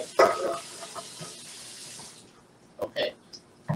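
Tap water runs into a container as it is rinsed out in a home kitchen during jerk turkey wing prep, a hissing splash that fades, then short splashes near the end, with someone talking.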